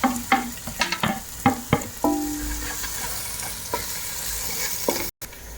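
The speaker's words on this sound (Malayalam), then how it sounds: "ഒരു 5 മിനിറ്റോളം നല്ലോണം വഴറ്റിയെടുക്കണത്." Tomatoes with green chillies and onion sautéing in a pan for coconut fish curry, steady sizzle with repeated clicking spoon strokes against the pan, close and fairly loud.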